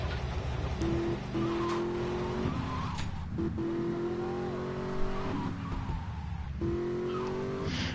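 A car drives in a video game with a steady engine drone whose pitch rises through repeated gear-shift cycles, plus faint tire noise, moderately loud and without talk.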